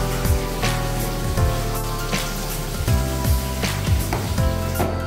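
Shiitake mushrooms and Cheongyang chili peppers bubbling in a Korean soy sauce braise with soju and corn syrup, a close, steady sizzling boil with irregular popping bursts.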